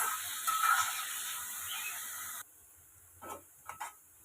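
Chicken pieces and drumsticks frying in a pan until golden brown, a steady hissing sizzle that cuts off abruptly partway through, followed by a few brief scraping stirs.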